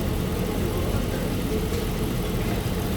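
A 2003 Dodge Ram 1500 engine runs at a steady idle, a continuous low rumble that holds even and unbroken throughout, with no talk over it.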